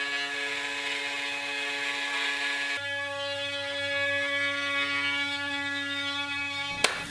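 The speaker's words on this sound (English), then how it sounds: "take it over to the bandsaw and cut just heavy of the line" Bandsaw cutting wood just outside a traced template line, a steady close whine with a tonal hum that holds evenly, shifts slightly partway through, then ends with a brief sharp knock.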